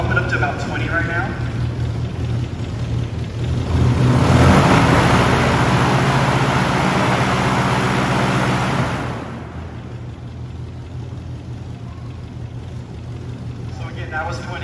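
A propeller-driven car on display at a motor museum, its engine raised to about 20% throttle, gives a loud steady roar that swells to a peak and then drops back to a lower drone, with people talking through it.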